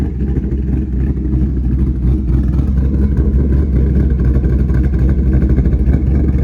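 Washed 2015 Mustang GT V8 with a tune only, idling with a lopey chop, a loud, steady low rumble with rhythmic uneven pulses close by, no talk.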